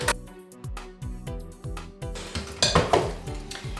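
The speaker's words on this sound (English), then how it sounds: "I'm going to mix those eggs in with the butter and the sugar now." A utensil beats eggs into butter and sugar in a bowl for chocolate cupcakes, striking in a steady rhythm of clinks and knocks, near and clear, with no talking.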